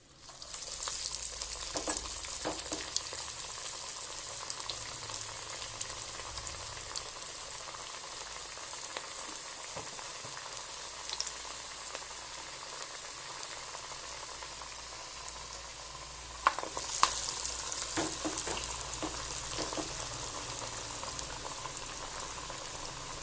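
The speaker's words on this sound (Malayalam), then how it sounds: "ഇങ്ങനെ കയ്യിൽ ഒന്ന് പരത്തി വെച്ചിട്ട് നമുക്കിത് ഓയിലിലേക്ക് ഇട്ടിട്ട് ഫ്രൈ ചെയ്തെടുക്കാം" Chickpea vadas frying in hot oil over a medium flame, a steady soft sizzle and bubbling that carries on throughout, with a few scattered pops and a brief louder flare partway through.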